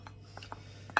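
Breadcrumbs and fresh parsley are mixed into stuffed portobello mushrooms with a utensil, giving a few soft, brief scraping and clinking taps against a dish, the last one louder, over a steady low hum.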